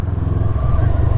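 BMW S1000 RR motorcycle engine running with a steady, low rumbling drone that holds at a constant level throughout the short stretch, fairly loud and close, with no clear revving.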